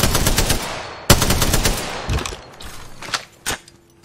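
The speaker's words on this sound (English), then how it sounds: "let me just fire at them." Rapid automatic gunfire from a shooter video game crackles in loud bursts, with a long burst, a pause, then shorter scattered volleys that fade, up close with no talking.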